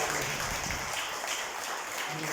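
Attendees at a priestly ordination celebration for two Catholic fathers break into sustained, even applause, a close and dense patter of many hands without any clear voices.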